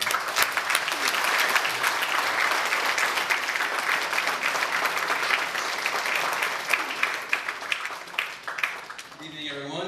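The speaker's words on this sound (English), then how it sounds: "A round of applause for Mr." An audience at a college commencement applauds Mr. Jeff Pradhan, a sales and marketing vice president, with loud, sustained clapping for nearly ten seconds before a voice begins at the very end.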